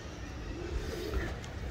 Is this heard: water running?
no